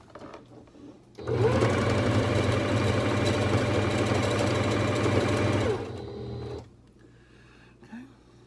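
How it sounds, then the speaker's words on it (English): A sewing machine runs steadily for about five seconds, stitching fabric for doll bedding, with a loud, even mechanical hum that starts and stops abruptly, faint room noise around it and no talk. "We're gonna sew all the way down, and then we're gonna lift our presser foot after that, turn it, and continue sewing."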